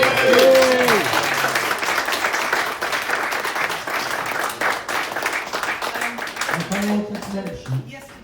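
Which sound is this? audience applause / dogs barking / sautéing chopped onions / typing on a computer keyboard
audience applause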